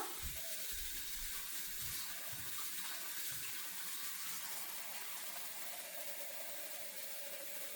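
Water runs and pours steadily in the foreground, a continuous splashing stream with a few soft knocks early on and no talking.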